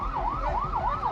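Ambulance siren wailing in a smooth rising and falling sweep, about three cycles heard clearly over a low rumble of traffic, with no talk.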